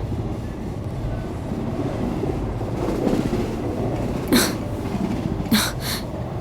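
A passenger train bound for Shirdi runs along, heard from inside a coach as a steady low rumble and rattle, with a couple of brief sharp noises near the end and no speech.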